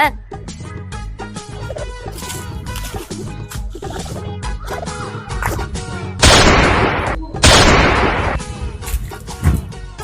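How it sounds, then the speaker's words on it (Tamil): Rapid bursts of toy gunfire crackle over a busy, music-like background, with two louder, harsher blasts of noise near the end. "அம்மா துப்பாக்கி வச்சு விளையாடிட்டு இருக்காங்க"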